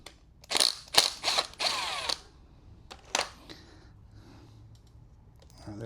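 A few short bursts of a small power driver removing 7mm screws from a Briggs mower carburetor, close and sharp, followed by light clicks and handling noises in a quiet room.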